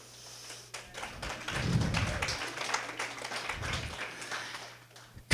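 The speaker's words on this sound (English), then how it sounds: "give her all a round of applause for being here" An audience at a presentation breaks into a rising wash of clapping that swells and tapers, with occasional thumps and a low hum underneath and no voices over it.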